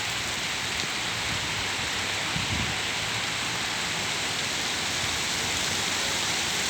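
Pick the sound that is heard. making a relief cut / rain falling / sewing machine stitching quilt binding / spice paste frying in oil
rain falling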